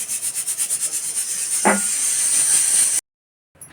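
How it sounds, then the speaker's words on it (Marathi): A home pressure cooker vents steam in a steady, loud hiss that starts pulsing in rhythmic bursts, then runs continuously before abruptly cutting off, with a short hiss resuming at the end. "हे बघा आपल्या कुकरची हवा पण निघाली आहे"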